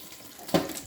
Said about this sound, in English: Clean the vegetables very well.